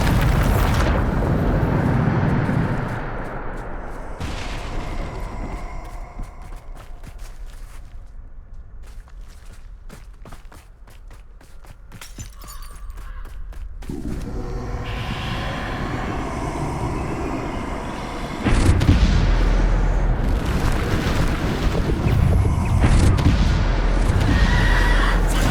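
Spell explosions in the Hogwarts Legacy video game, a series of loud booms and rushing bursts with rumbling tails, separated by a quieter stretch, then a final heavy blast near the end.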